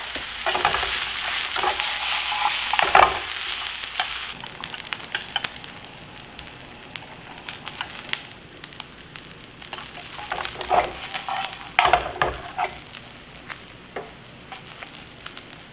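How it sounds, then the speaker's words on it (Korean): Vegetables roast in a pan for brown stock, a steady close sizzle and frying hiss with repeated scraping and stirring throughout, no voices. "그래서 야채를 잘 구워야 그 색이 나옵니다"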